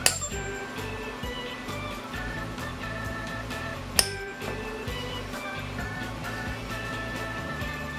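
A single hard hammer smack on a metal stamp lined up on a hand-poured silver chunk rings out as one sharp metallic strike midway, over steady background music.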